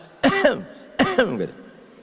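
Two distinct coughs from a person inside a toilet, each a sharp harsh burst followed by a shorter rasp, spaced about a second apart and heard up close.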